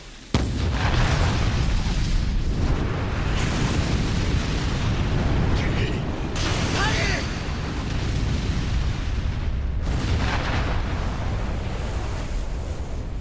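A magic cannon fires: a sustained roaring blast fills the space, a dense rumbling explosion that keeps booming with bursts of crackling energy and a sharp hit near the end.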